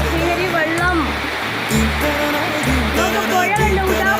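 Rushing water from rain and a flowing river roars steadily and loudly close by, while a voice talks over it throughout.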